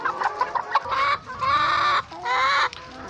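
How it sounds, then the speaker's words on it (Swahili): Caged chickens at a poultry farm cluck and squawk up close in a series of loud bursts, some short and some drawn out, with brief pauses between them. "ukiangalia kama hii keji ina kuku watatu"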